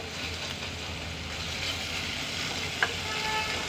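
Ginger-garlic paste sizzles steadily in hot oil for a brinjal and taro tamarind stew, a close, even frying hiss with one brief sharp click near the end.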